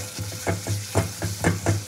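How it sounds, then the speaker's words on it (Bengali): Spice paste for a prawn curry fries in a pan, stirred in a regular rhythm of soft scraping strokes over a low, steady sizzle. "মশলা কষানো হয়ে পরিমাণ মতো চিনিটাও দিয়ে দেবো"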